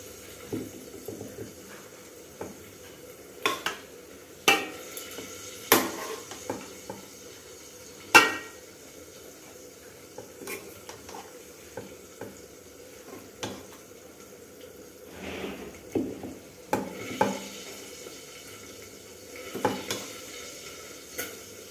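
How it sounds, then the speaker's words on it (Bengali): Chicken pieces drop into a pot of dum biryani masala and are stirred with a spoon, giving scattered scrapes and clinks over a soft, steady sizzle with no talking. "এবারে আমি চিকেন দিয়ে দেবো।"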